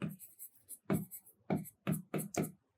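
Chalk or pen taps and scratches out a math formula on a board in a string of quick, separate strokes, close and fairly crisp, with no talking.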